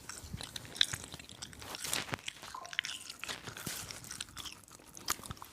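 Close crunching and chewing of food by someone eating Chinese food, with repeated crisp bites and mouth sounds across the stretch, near the microphone and without talk.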